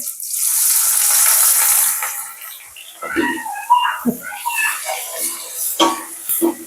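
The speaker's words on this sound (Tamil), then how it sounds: "இதான் நான் வெங்காயத்தை போட்டுக்கொள்கிறேன்" Chopped onions drop into hot oil in a pan and set off a loud, steady sizzle for about two seconds. The sizzle then fades into a quieter frying hiss as a voice talks over it.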